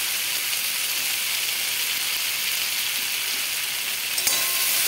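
Ghee poured over cooked vegetables sets off a loud, steady hissing sizzle in the pan, close and unbroken, with a small clink near the end.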